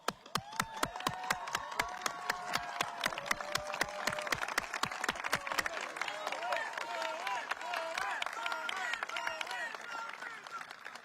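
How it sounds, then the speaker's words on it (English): An audience at a high school graduation ceremony applauds a retiring teacher: sharp, rhythmic claps at first, then thickening into a steady wash of crowd clapping with voices and cheers mixed in, heard from within the room. "So I really appreciate it if you guys could stand up and give him a round of applause."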